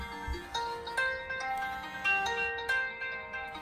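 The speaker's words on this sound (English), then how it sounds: "an alarm tone of some sort." An iPhone 4 plays an electronic alarm tone, a repeating series of beeping notes, fairly quiet and steady with no talking.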